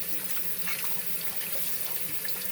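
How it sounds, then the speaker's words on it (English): Tap water runs steadily into a sink to rinse out a turkey being cleaned Haitian style, a continuous close splashing flow with no talking. "I'm gonna turn on my water and just rinse it out"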